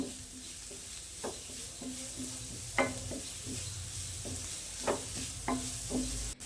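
Prawns with salt being stirred in a frying pan for a simple snack, giving a steady soft sizzle broken by intermittent scraping clinks of the spoon against the pan, close and alone.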